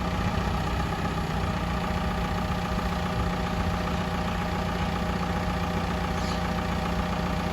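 Komatsu FD25-11 diesel forklift, a 2.5-ton four-wheel model with a rotating fork and 4 m mast, idling during a test with a steady, close, rumbling engine drone and no talk.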